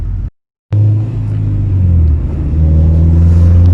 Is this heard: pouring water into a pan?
no